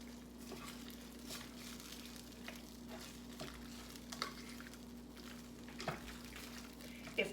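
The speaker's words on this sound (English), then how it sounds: "and give it a stir" Cooked penne being stirred into a pan of olive oil with roasted tomato and feta, a quiet, close sizzle with soft scraping and clinks of a spoon over a low steady hum, without voices.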